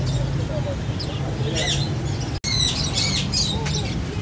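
Chirps, tweets and squawks from pigeons and other caged birds fill a Karachi bird shop, overlapping continuously with a low background hum while a voice talks nearby.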